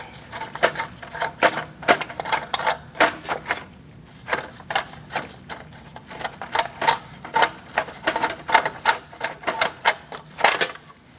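Rapid bursts of an impact wrench or ratcheting tool loosening lug nuts with a 19mm socket on a 2016-2019 Chevrolet Cruze wheel, during front brake replacement, arriving in a string of short sharp clattering pulses without speech.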